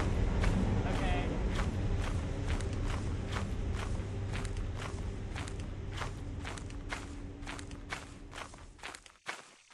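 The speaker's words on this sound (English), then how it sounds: "That's my footsteps on this crunchy ground." Footsteps crunch over gravelly ground in the video game Lethal Company: a steady, evenly paced run of close steps with faint voice sounds beneath, ending in a few heavier thumps.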